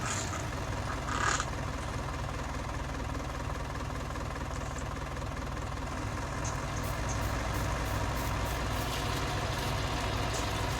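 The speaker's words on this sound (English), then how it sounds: "We will bring the other tractor in." A farm tractor engine idles steadily and low during a 1966 sugar beet harvest, a constant rumble that runs without a break, with a few faint higher clicks near the end and no talking.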